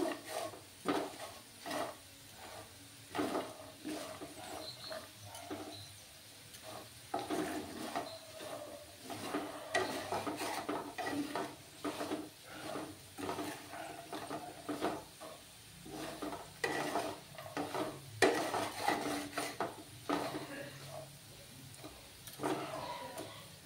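Fried potatoes are turned with a spatula in a pan, making a long run of repeated scraping and tapping knocks against the metal, fairly close, with no talking.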